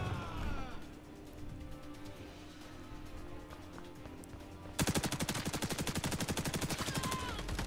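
Automatic gunfire rattles in the online shooter Caliber, a steady rapid stream of loud shots in the second half that follows quieter game ambience and scattered noise.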